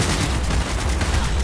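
Rapid gunfire from a Cyberpunk 2077 firefight, a dense, continuous rattle of shots that stays loud and close for the whole moment with no speech over it.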